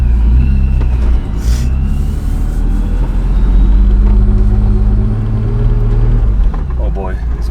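Turbocharged BMW E36 idling and rolling around a parking lot, a deep, loud rumbling engine with uneven throttle blips, recorded close from inside the car with voices talking over it.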